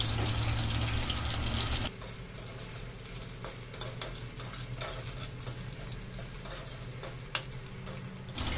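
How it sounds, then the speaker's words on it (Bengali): Potatoes fry in oil in a pan for a Bengali fish curry, a steady close sizzle that follows a louder, denser burst at the start, with occasional stirring clinks. "আলুগুলোকে একটু ভালো করে ভেজে নিলাম।"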